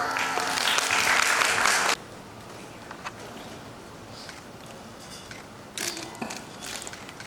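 An audience at a school public speaking competition in Thailand applauds loudly for about two seconds, then the clapping stops abruptly, leaving quiet room noise with a short burst of sound near the end.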